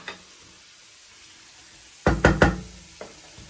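Vegetables tipped into a hot pan of sizzling beef and oyster sauce stir fry, a cluster of loud close clatters and knocks over a low fry, then one more knock.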